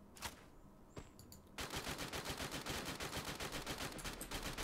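Rapid automatic gunfire from the battle royale video game Free Fire, with a few scattered shots first and then a dense, steady burst of machine-gun fire that continues without pause.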